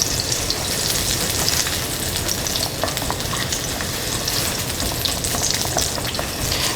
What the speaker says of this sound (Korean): 마늘을 먼저 넣어서 향을 먼저 내주도록 하겠습니다